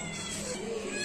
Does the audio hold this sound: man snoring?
no